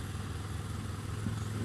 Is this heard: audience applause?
no